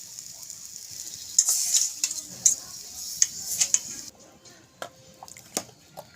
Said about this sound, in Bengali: এবার বাকি 2 পিস মাছ আমি ভেজে নিচ্ছি